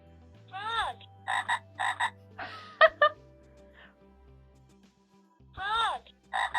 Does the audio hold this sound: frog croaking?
yes